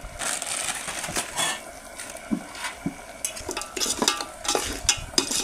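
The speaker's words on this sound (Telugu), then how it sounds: "ఇలా మొత్తం ఒకసారి కలిసేలా కలుపుకొని ఒక 5 నిమిషాలు ఫ్రై అవనిద్దాం" Spices and rock salt being stirred into a frying curry of goat head meat: irregular scraping and clattering of a spoon against the pot over a soft sizzle, close and busy with no talk.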